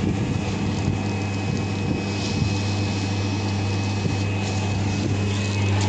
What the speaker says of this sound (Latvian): Jums te sveicina motors